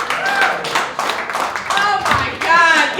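Comedy-club audience at 377 Brewery applauding the comedians, a loud, dense wash of clapping that runs continuously for about three seconds, with cheering voices mixed in.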